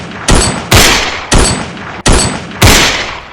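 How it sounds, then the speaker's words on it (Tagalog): Loud gunshots of assorted calibres ring out in quick succession as a sound effect at a wake, five sharp blasts spaced under a second apart, each trailing off in a long echoing decay. "Sunod-sunod na iba't ibang kalibre na tunog ng baril ang umalingaw-ngaw sa lamay."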